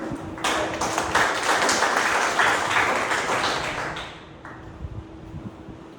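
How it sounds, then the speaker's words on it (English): Audience applause for the Toastmaster at a Toastmasters club meeting, a dense burst of many hands clapping that swells, holds for about four seconds, then thins out to a few scattered claps. "A huge round of applause."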